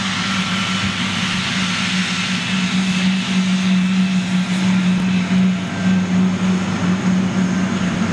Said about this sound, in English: we've got a 747 on pushback, folks